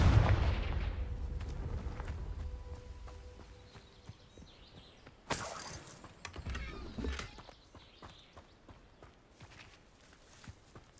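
Casting the Confringo fire spell in Hogwarts Legacy on PC, heard as a sudden sharp blast partway through amid sparse footsteps and thuds, after a louder rumbling opening that fades.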